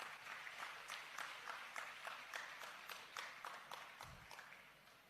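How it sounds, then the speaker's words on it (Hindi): Applause from an audience at a talk in Rishikesh, greeting visiting in-laws from Bombay; dense, steady clapping that fills the whole stretch at moderate distance, with no speech over it. "उनके लिए जोरदार तालियां"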